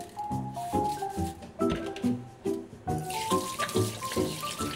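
Cucumbers are scrubbed with coarse salt under a running kitchen tap, giving rhythmic squishing and rubbing strokes over splashing water in repeated bursts, close and fairly quiet.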